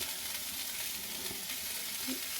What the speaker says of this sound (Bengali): এদিকে মাছ হবে তার জন্য পেঁয়াজ রসুনটা অল্পখানি তেল দিয়ে ভাজছি